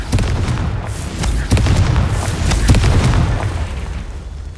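Confringo blasting spell explosions in the Hogwarts Legacy video game, a series of loud booming blasts and crackling bursts that follow each other over a continuous rumbling din.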